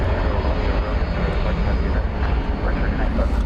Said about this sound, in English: It's going to be an Airbus A321 here on Runway